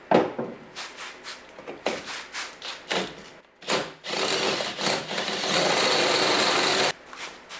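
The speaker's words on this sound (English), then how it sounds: "I gotta drill these holes out to 5/8" Worn drill bit grinding through metal, enlarging holes to 5/8 inch on a Jeep TJ tire carrier, in repeated short bursts, then a longer sustained whine and chatter as the bit struggles, close and fairly loud.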